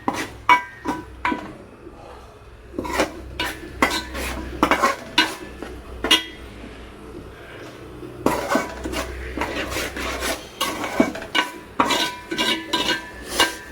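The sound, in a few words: stirring fish curry with salt, chili, turmeric, garam masala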